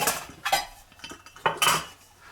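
A 900 ml metal camping pot clanks and scrapes as it is handled inside a metal Dutch oven, several sharp close metallic knocks and clinks with brief pauses, no talking.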